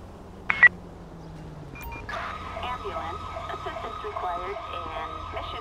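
Ambulance siren from the GTA V LSPDFR police mod, a steady wailing electronic tone starting after a couple of short beeps and continuing at moderate loudness to the end, with faint background hum.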